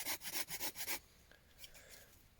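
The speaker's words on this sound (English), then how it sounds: "Saws that we use, Japanese pruning saws called silky saws" A Japanese Silky pruning saw cuts wood in about six quick, rhythmic rasping strokes, loud and close, then stops, leaving faint scattered rustles in the outdoor quiet.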